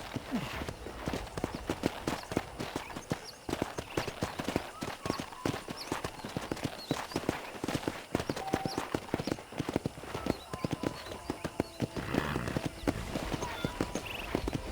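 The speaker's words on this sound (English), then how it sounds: "let's see if you can still ride a horse" Steady clip-clop of horse hooves as a rider gallops through a ranch in the video game Red Dead Redemption, a fast continuous rhythm with faint game ambience and no talk.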